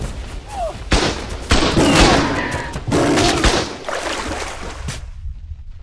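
Rapid gunfire from shooting at animals in the survival video game Ark: Survival of the Fittest, with loud overlapping bursts of shots in quick succession for about five seconds before cutting off abruptly into silence.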